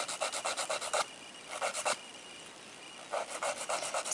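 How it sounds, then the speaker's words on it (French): A nail file rasps back and forth across gel nails to shape them square, in quick rhythmic bursts of strokes with short pauses between, close and fairly loud. "pour limer la forme, on pose la lime droite en fait, comme ça, bien droite, pour pouvoir limer la forme carrée"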